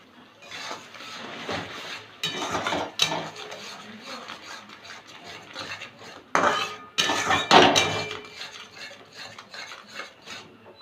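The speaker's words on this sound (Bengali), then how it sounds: "মিক্সিং বাটিটা ধুয়ে একটু জল দিচ্ছি" A steel mixer-grinder bowl used for a mustard, poppy seed and green chili paste is rinsed and clattered in a kitchen while cooking okra. Metallic knocks, scraping and rubbing come in uneven bursts, with sharper clanks near the middle and end.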